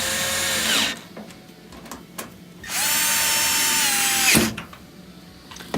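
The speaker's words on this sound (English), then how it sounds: "we'll put those Phillips head screws back in to hold on the front panel" Power drill driving Phillips head screws into the front panel of an LG washer: two sustained whirring bursts with rising and falling pitch, close and loud, separated by quiet handling clicks.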